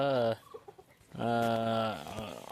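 A newly arrived hen gives two drawn-out clucking calls close by, separated by a short gap filled with faint scratchy sounds, the second call wavering as it fades.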